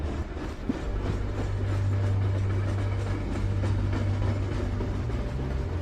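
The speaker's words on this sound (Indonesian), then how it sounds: "Kok kayak ada bunyi kereta?" A train runs through a deep rail tunnel, its heavy low rumble and rhythmic wheel clatter holding loud and steady throughout.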